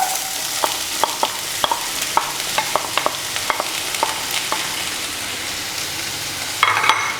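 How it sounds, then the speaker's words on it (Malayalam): Chopped onions tumble into a hot pan and fry with a steady sizzle, punctuated by repeated sharp clinks and scrapes of a spoon stirring. A brief burst of louder frying comes near the end, with no voices. "ഞാൻ ഇതിനകത്തോട്ട് അരിഞ്ഞു വെച്ചിരിക്കുന്ന സവോള ചേർത്ത് കൊടുക്കുകയാണ്"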